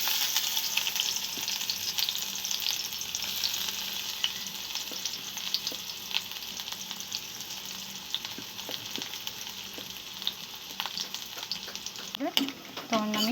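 Onion and garlic sizzle steadily in a hot pan while making masala Maggi, a continuous crackling fry with occasional stirring scrapes, close and fairly soft, ending with a brief clatter.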